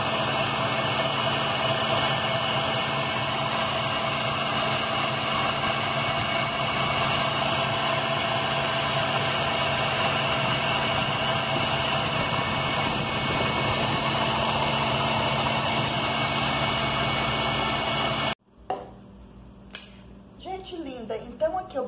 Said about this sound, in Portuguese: Eu bati na batedeira